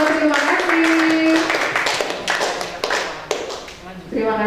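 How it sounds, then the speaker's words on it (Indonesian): A class applauds a student group after its presentation with quick, uneven clapping from many hands that fades toward the end. Voices are heard over the applause. "Beri tepuk tangan untuk kelompok Chandra dan Yoyo."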